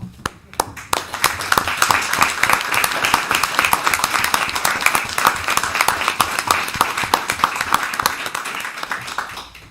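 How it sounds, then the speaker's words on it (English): A town council room full of standing people gives a round of applause for military veterans: dense, loud, sustained clapping that fills the whole stretch without letting up. "I just want to give a round of applause to those that serve their country"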